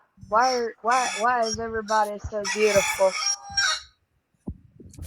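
A rooster crows loudly and close, a long wavering cock-a-doodle-doo that serves as an alarm, followed by a brief spoken remark and a few faint knocks.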